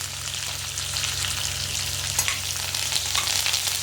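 Onion, green chilies, ginger and curry leaves fry in hot oil for bheeyapu nooka upma, a steady close sizzle with faint crackles and a low hum underneath, no voices.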